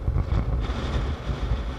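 Wind buffets a microphone outdoors on a cool, breezy day in Chile, a steady low rumble with gusts and no talking.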